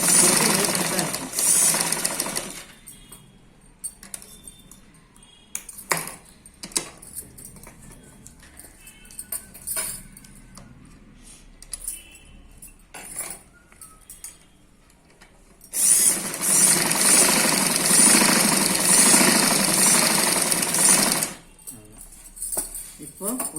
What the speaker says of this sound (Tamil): இப்போ இன்னொரு சைடு அதே மாதிரியே ஸ்டிச் பண்ணணும்